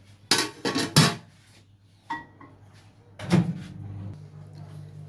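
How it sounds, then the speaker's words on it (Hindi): Dishes and pots clatter in a home kitchen as boiled rice is served onto a plate: a few sharp clanks up front, then scattered scrapes and knocks, with a faint voice in the background. "मैं निकालती हूँ चावल को प्लेट में।"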